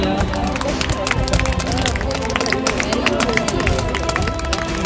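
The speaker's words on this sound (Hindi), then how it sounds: "जोरदार तालियां।" A crowd at a school sub-junior state championship event claps along amid busy background chatter, a dense wash of steady clapping and hubbub that carries on without pause.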